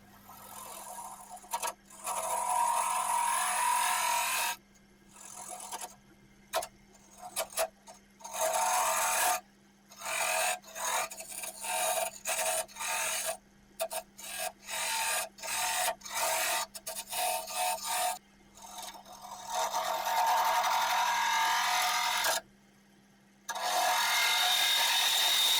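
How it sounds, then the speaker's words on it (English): A half-inch spindle gouge hollows the inside of an oak lidded box spinning on a lathe, giving loud, rough scraping and cutting in repeated bursts with short pauses, over a steady motor hum. "hollowing the inside. I use a 1/2 inch spindle gouge to"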